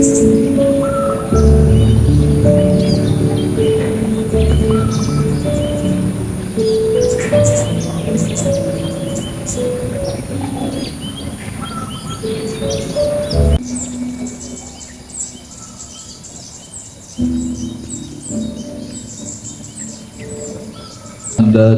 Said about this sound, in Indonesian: Anda juga memperhatikan suara burung-burung